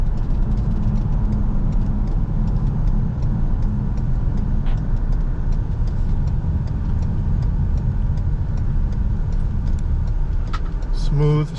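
A 2018 Ford Explorer undercover Police Interceptor with low engine hours cruising straight and smooth, a steady even road and engine drone from inside the cabin with a faint ticking near the end.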